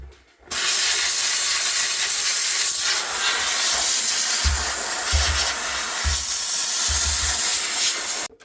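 Handheld steamer blasting to defrost caked ice inside a GE refrigerator: a loud, continuous close hiss of spraying steam with faint low thumps underneath, starting abruptly and cutting off at the end, with no talking.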